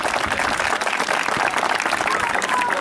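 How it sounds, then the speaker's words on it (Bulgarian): Applause at a town celebration for the participants of a football tournament, a steady wash of clapping with crowd noise that fills the whole stretch at an even level. "Отново на за всички участници в турнира аплодисменти."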